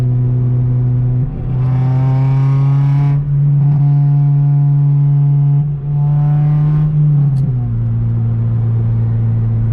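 A loud, close RSX car engine holds a steady buzzy drone, rising in pitch through several revs, with a raspy, two-stroke-like exhaust note throughout.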